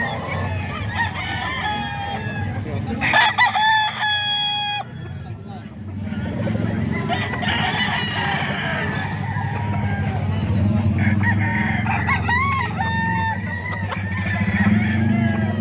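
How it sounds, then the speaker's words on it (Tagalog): Several roosters crow repeatedly amid a busy crowd at a Bocaue market, with people talking and clucking hens in the background and passing vehicle noise. "Napakaraming manok na naman."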